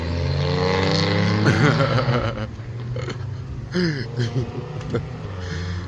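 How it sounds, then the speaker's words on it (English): An engine revs in short bursts somewhere outside, rising and falling in pitch, while a person talks over it nearby. "Oh, I hear someone revving it outside."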